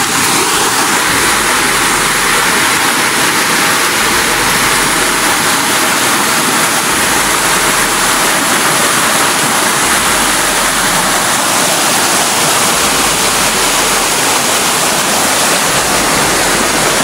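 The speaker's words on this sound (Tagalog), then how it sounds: "So, laki ng sapa dito mga tulo." A big stream rushes steadily past, a loud, dense, unbroken roar of churning water filling the whole stretch, close up and without talk.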